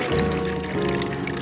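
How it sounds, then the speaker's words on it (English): Water pours steadily from a homemade dispenser built from recycled wood board and scrap materials, a continuous close, fairly loud stream. "That is water dispenser."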